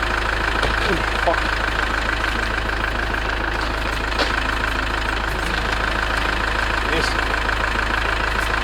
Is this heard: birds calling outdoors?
no